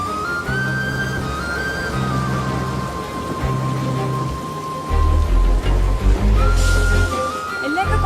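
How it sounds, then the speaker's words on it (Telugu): Heavy rain pours steadily throughout, loud and close, with a low rumble and music running over it; people talk under the downpour. "ఇక్కడ బాగా వర్షం పడుతుంది, వినిపించట్లేదు అసలు."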